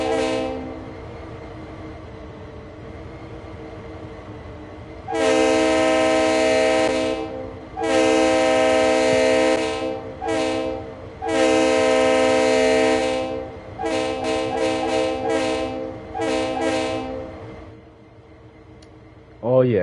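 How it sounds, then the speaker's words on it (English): RS3L diesel locomotive in Train Sim World 3, engine rumbling steadily beneath several long, loud horn blasts followed by a string of short horn toots, with someone talking over it. "Oh yeah, good old sounding RS3L."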